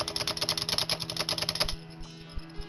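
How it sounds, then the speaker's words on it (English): Close-up computer keyboard typing: a fast, dense run of clicky keystrokes for about a second and a half, then a few scattered single presses. No one talks. "I love the noise of this keyboard."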